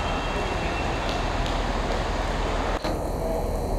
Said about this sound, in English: There's this noddy train.